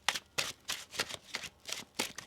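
Tarot cards shuffled by hand in a quick rhythm of about seven crisp riffling bursts with short pauses between, close and soft, with no talk.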